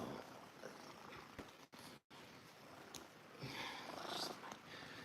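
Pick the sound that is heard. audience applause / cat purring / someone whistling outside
cat purring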